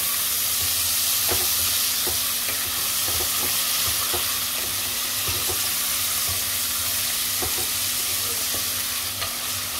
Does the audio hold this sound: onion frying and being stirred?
yes